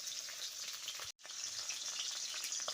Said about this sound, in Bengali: মাছগুলো আমি দুবারে ভেজে নেব